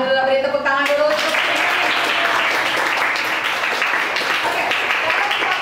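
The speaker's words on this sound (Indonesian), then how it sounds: "beri tepuk tangan dulu" Audience applause in an Indonesian lecture on communication and preaching, a steady loud wash of clapping that begins abruptly after a short musical tone and carries on throughout.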